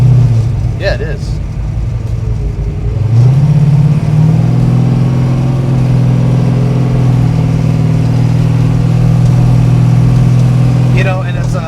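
A 1966 Plymouth Satellite with a low-compression 426 HEMI engine and small stall converter rumbles steadily while driving, its deep drone swelling louder after a few seconds and holding; voices are faint at the start and end.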